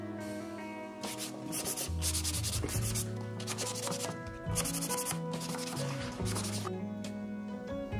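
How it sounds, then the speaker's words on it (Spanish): An electric sander with 80-grit sandpaper buzzes against wood in uneven bursts, its pitch shifting as pressure changes, close and fairly loud with no talking. "voy a pasar a la lijadora con una lija del grano 80"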